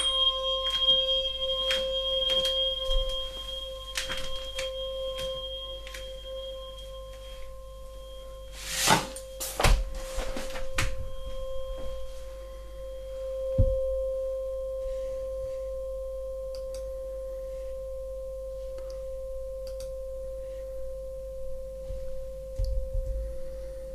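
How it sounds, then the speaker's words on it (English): A steady pure sine tone at 528 Hz for sound healing holds without break throughout, joined by a fainter higher partial, while brief soft chimes and rustles cross it near the middle. "Allow the tones and the vibration from the sound healing"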